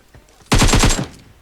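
A short, loud burst of rapid automatic gunfire in the shooter game PUBG Mobile, about half a second of quick repeated shots that stands alone after a faint earlier pop.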